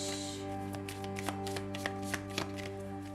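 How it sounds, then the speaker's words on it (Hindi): Tarot cards are shuffled by hand, making a run of soft, irregular flicks and taps that come close together over a steady low hum, with no talking. "आपके अगले कार्ड देखते हैं, शफल कर लेते हैं"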